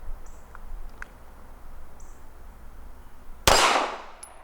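A single 9mm Glock 17 shot rings off an old steel plate, a sharp loud clang near the end that decays over about a second after quiet outdoor background with a few faint distant chirps.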